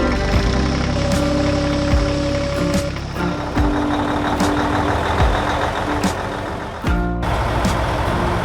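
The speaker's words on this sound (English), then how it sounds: "His engine purred softly as he set out for work" An orange Ursus tractor engine runs and idles at a steady low drone, with reversing beeps and clanks cutting in and a brief dropout near the end.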